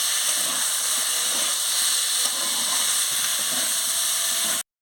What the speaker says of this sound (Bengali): এবার আমি বেগুনটাও দিয়ে দিচ্ছি। দিয়ে ভালো করে কষিয়ে নিচ্ছি।